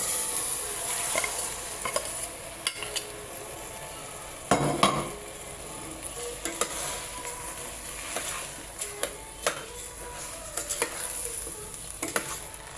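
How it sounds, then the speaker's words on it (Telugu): Soaked basmati rice poured into a pan and stirred, giving a steady sizzle with scraping and clinking of a spoon against the pan, including a louder burst near the middle, with no one talking. "చూసారు కదా, గంట ముందు నానబెట్టాను. వేసేద్దాం బాస్మతి రైస్ని కూడా."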